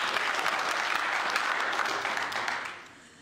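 Audience applause for Mr. Bajo, a dense steady wash of clapping that holds loud and even before tapering off at the end, with no voices over it.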